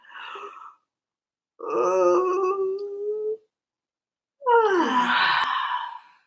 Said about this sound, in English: Take a nice deep breath, like you're yawning. Just yawn.